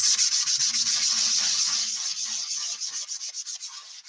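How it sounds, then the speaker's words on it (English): Rhythmic scratchy rubbing of a sanding block lightly sanding painted wood, steady back-and-forth strokes close up, gradually becoming lighter and more broken toward the end. "I'm just lightly sanding this."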